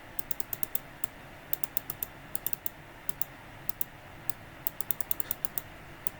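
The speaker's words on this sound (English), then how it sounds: "Why am I clicking so fast?" Fast clicking while playing a computer game, sharp close taps in quick irregular bursts with short gaps, fairly quiet over a faint background hiss.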